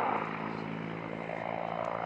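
T129 ATAK Turkish attack helicopter in flight at a display, a steady, dense rotor and engine roar heard at moderate distance with no talking.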